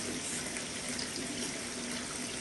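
Water running steadily from a kitchen tap for hand washing, a continuous close splashing stream into a sink that holds an even level throughout, with no voices over it.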